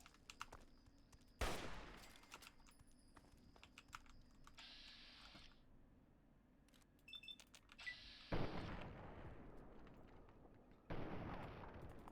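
Fallout 3 game gunfire comes in several short, fairly loud bursts of shots, heard alongside steady, close computer keyboard typing and clicking, with no speech.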